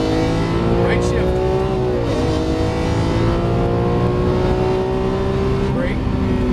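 Lamborghini Aventador LP700-4 V12 accelerating hard on a race track, a loud sustained engine roar with rising pitch while a driving coach talks over it.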